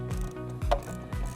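A 10mm wrench ratchets a nut tight on an e-bike seat mount, three close, crisp clicking strokes in a steady rhythm with no talk.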